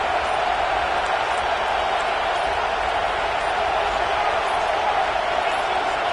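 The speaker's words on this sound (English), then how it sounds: "Decibels rising as the crowd gets behind this defense on third down." A football stadium crowd roars on a third down, a dense, steady wall of loud noise that holds without letting up.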